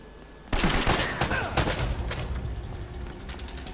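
Enemy gunfire in the video game Uncharted 1, a sudden burst of rapid shots breaking in after a quiet start, then several more sharp cracks that trail off into echoing rattle, with a voice talking briefly underneath.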